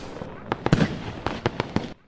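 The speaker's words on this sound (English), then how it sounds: "The fireworks in the night sky were bright and dazzling." Fireworks burst in the night sky, a close run of sharp cracking explosions in rapid succession, then cut to silence.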